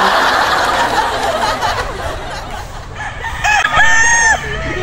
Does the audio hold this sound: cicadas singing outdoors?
no